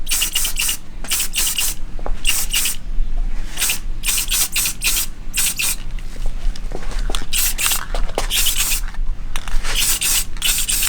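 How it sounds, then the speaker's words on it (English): A spray paint can hisses onto wheel spokes in repeated short bursts of steady spray, close and fairly loud, separated by brief gaps with light handling noises. "Nothing special, use spray paint."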